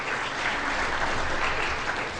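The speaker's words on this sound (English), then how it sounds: "And can we have a round of applause for Dana, please, and the great job she's do" A debate audience breaks into sustained applause, a dense wash of clapping that holds steady and fairly loud for a couple of seconds with no voices on top.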